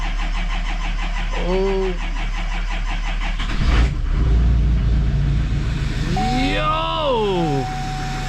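A Duramax diesel truck struggling in cold weather cranks, then catches and starts, settling into a rough idle with some revving; a person exclaims briefly over the engine noise.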